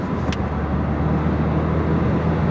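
Citroën DS3 e-HDI diesel accelerating, heard from inside the car as a steady loud engine and road drone with a low hum, one brief click near the start.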